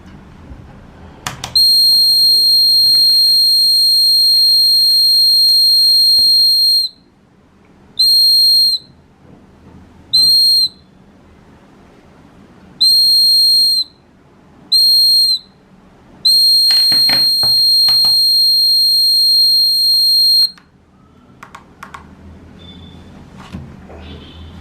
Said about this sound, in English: This laser security alarm system triggered the LED and buzzer